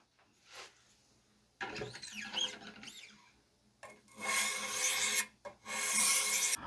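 Knife edge being polished on a 1500/2200 grit stone of a Wicked Edge Generation Pro 4 sharpener: bursts of dry rasping strokes, short at first then longer and louder, separated by quiet pauses.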